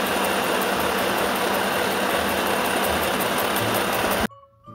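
Home sewing machine stitching fabric, a steady loud mechanical whir running continuously for several seconds and then cutting off abruptly, with no talking.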